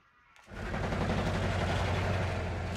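Artillery cannon firing in the KARDS card game: a loud burst at about half a second gives way to a sustained dense rumble and roar that holds steady to the end, with no talk.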